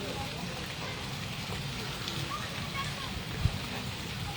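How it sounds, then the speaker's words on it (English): Rain falls steadily at Singapore Zoo, a soft, even hiss of drops on surfaces, with faint voices in the background and one brief low thump near the end. "The rain has just started to slow down a bit."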